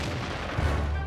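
A tank gun fires in World of Tanks, a single short heavy boom with a low rumbling tail.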